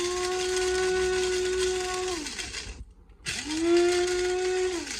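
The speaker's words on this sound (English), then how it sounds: "So I'll grind that now. And there's a tablespoon of peppercorns in there." An electric grinder crushing a tablespoon of peppercorns whines loudly and steadily in two bursts, cutting off briefly in the middle before spinning back up.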